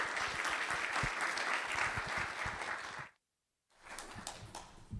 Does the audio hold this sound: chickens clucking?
no